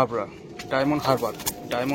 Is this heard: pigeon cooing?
yes